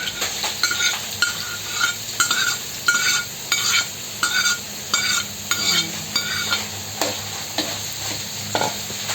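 Ham sizzles steadily in a frying pan for carbonara while a utensil stirs it in regular rhythmic scrapes and knocks, close and clear with no talking.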